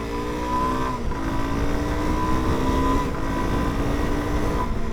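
A Suzuki DR-Z4S motorcycle accelerating off road, a loud, continuous engine drone rising in pitch through gears, with brief dips at shifts and steady wind and rumble underneath.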